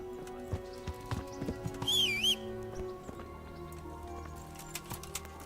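Clip-clopping hooves of a horse in Kingdom Come: Deliverance beat out an uneven rhythm of thuds, with a brief neigh partway through over quiet background sound.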